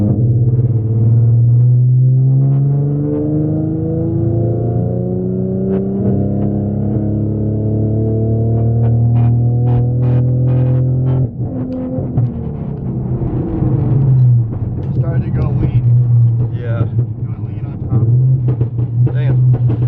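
A Ford Mustang 3.7 V6 swapped to an M122 supercharger makes a wide open throttle pull while being street tuned. The engine drones loud and close, its pitch climbing steadily through the rev range before settling.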